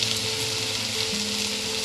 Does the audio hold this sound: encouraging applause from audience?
no